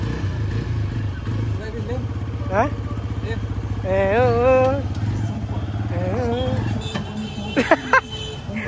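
A brand-new motorcycle engine idles with a steady low rumble while people talk over it, voices rising and falling throughout.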